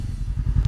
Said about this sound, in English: I'm using the idle power of the engine. I'm not giving it any throttle whatsoever.